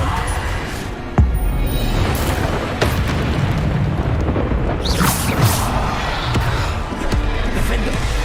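Bombarda spell explosions in a video game, repeated muffled booms and pops over a steady noisy background, with a voice speaking intermittently.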